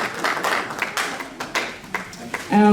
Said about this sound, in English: A round of applause for him, please, please, please, please.